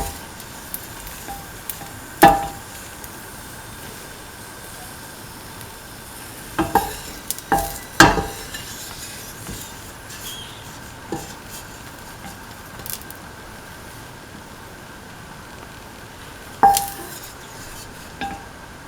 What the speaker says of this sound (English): Take off the raisins from the pan and onto the plate.